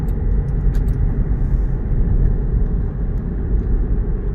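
A 2022 Land Rover Defender 110 X Dynamic pulls forward under moderate throttle, its engine a steady low rumble from inside the cabin, continuous and fairly loud with no talking.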